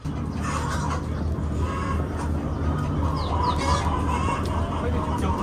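Dong Tao chickens on a Vietnamese farm cluck repeatedly over a steady background hum, close and fairly loud, with a few sharper calls.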